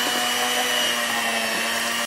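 An electric mixer blends pumpkin puree into a whipped cheesecake filling, giving a steady, close motor whine that runs evenly throughout without pauses or speech.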